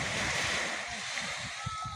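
Sea waves wash at Tambak, Ipil, Santa Cruz, Marinduque, a soft continuous surf with small splashes near the end, and a voice can be heard faintly.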